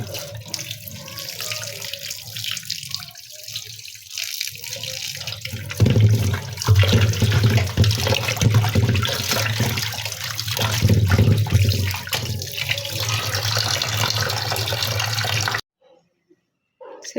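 Tap water runs steadily into a kitchen sink as boal fish is washed, a continuous close splashing that grows louder partway through and then cuts off abruptly near the end.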